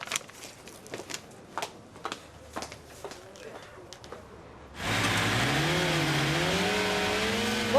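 A car engine revs up loudly and holds a rising, wavering drone outside on a street, starting abruptly after a stretch of quiet clatter and talking, then dominating the scene up close.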